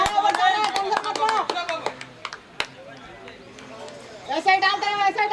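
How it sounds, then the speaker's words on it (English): A corporate cricket team cheers and claps at the ground during a semi-final match, with bursts of scattered clapping and shouts heard under a commentator's steady voice. "Loud cheering going on the ground."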